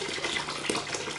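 A brushless 12V mini submersible water pump, rated 3 m lift and 240 L/h, pushes water out in a steady, continuous gush of splashing flow. No one speaks over it.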